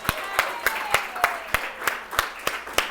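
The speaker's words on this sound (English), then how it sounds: "Give yourself a round of applause." Steady, evenly spaced claps from an audience at a motivational speech, about three per second in a regular beat, moderately close with a faint hum underneath.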